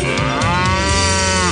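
Cattle lowing in a radio farm-business advertisement: one long, loud, steady moo with a rising then falling pitch, heard alone at close range without talk.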